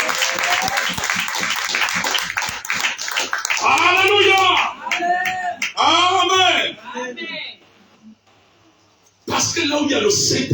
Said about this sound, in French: Vous pouvez acclamer le roi des rois.